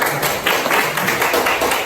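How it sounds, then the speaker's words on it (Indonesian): Students in a music class clap together in a dense, steady round of applause, close and continuous for a couple of seconds. "Tepuk tangan untuk Yanti lagi."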